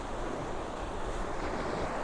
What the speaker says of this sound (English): the nice waves that are down there?